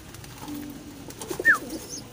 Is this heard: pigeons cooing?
yes